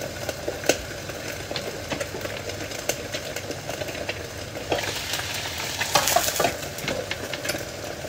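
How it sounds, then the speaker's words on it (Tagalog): Ground chicken sizzles and fries in a pan for a Thai-style gapao rice dish, a steady crackle with occasional stirring scrapes and a brief louder burst near the end, no voices. "Ito po yung niluto natin na manok po, na giniling na manok"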